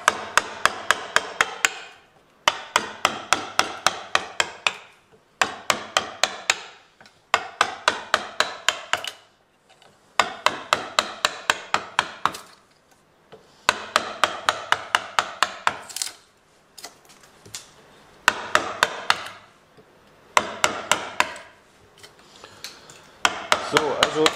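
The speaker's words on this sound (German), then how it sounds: "beim Draufhauen lieber nur einen Gummihammer nehmen" A rubber mallet strikes a wood carving chisel in bursts of rapid, evenly spaced blows, each burst several seconds long with short pauses between, close and fairly loud.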